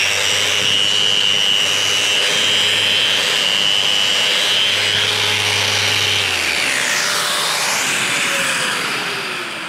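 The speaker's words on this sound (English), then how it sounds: "we're now going to use 1000 grit platin onto the RO150 Rotex, and we're going to give this a sanding" A Festool RO150 Rotex sander with 1000-grit abrasive runs loud and close with a steady high whine, then winds down and its pitch falls toward the end.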